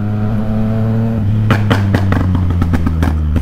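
A remapped Yamaha MT-09 motorcycle idles with a deep, steady thrum, then is blipped repeatedly in a quick series of sharp, loud revs close by, with no talk.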